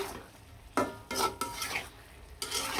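Hilsa fish head with eggplant stirred in a pan: several distinct scraping stirs and utensil clatters against the pan over a faint low sizzle, close and without speech.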